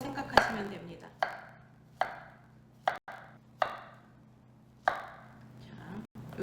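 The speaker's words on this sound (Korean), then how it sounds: "바나나를 써는데요" A knife slicing bananas diagonally into oval pieces for a banana tart, seven crisp separate cuts against a board at an uneven pace, close and clear over a quiet low hum.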